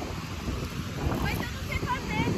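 Strong beach wind buffets the microphone while a kite is flown at the seaside, a constant loud rushing roar with faint surf and voices mixed in underneath.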